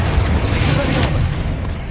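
A magic disarming spell cast in the fantasy action game Hogwarts Legacy, heard as a loud, dense burst with a booming low end that holds steady for about two seconds under game effects.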